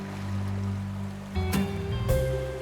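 Ocean waves wash and surge in a fantasy video game scene, a steady soft rush under low droning game music, with brighter splashing swells near the middle and end.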